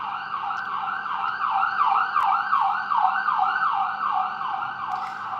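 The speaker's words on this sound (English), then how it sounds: "the sirens that you're hearing right now are just police cars going by" Police car sirens wail in a fast repeating up-and-down pattern as they pass in Israel during wartime, loud and steady, with faint traffic rumble beneath and no talking.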